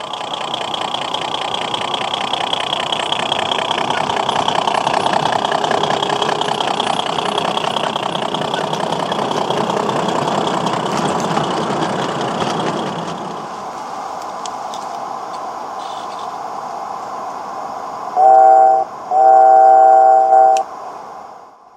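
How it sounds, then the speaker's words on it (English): Fowler diesel mechanical locomotive on a light railway, hauling an ore train, a steady loud engine chug with rhythmic ticking pulses that drops to a quieter idle, then two short bursts of a whistle or horn. "A down ore train, hauled by Fowler Diesel Mechanical Loco No. 7 Tollmash, set off for the copper mine"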